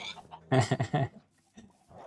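A video game pig grunts and oinks in a short cluster of three or four quick, close snorts, followed by a couple of fainter grunts.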